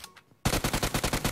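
Rapid automatic gunfire in the video game PUBG Mobile bursts in loud and close after a short quiet lead-in, about a dozen evenly spaced shots in quick succession.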